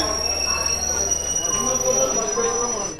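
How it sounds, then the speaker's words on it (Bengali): The 13187 Maa Tara Express, on the Sealdah to Tarapith run, pulls into a station with a steady, loud rumble of wheels on rail and a thin, high metallic squeal running through it. "ট্রেন কিন্তু অলরেডি ঢুকে গেছে"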